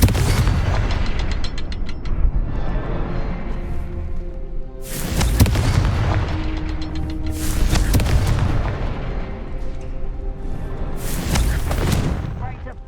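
Booming fire-spell explosions from Hogwarts Legacy burst out in loud repeated blasts, roughly three heavy detonations with crackling decay between them, while a voice speaks over the action.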